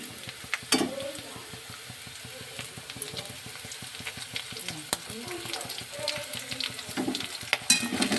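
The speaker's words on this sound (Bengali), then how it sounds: "আদাটা দিয়ে আমি এবার নাড়িয়ে চাড়িয়ে নিচ্ছি" Ginger frying with reddish-browned onion in a pan for a Bengali koi fish dish, a steady sizzle broken by repeated scraping strokes of a stirring spoon, close and moderately loud, with faint voice in the background.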